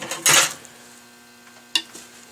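A utensil stirs guacamole in a bowl, giving two short, bright clinks and scrapes against the bowl separated by a quiet pause.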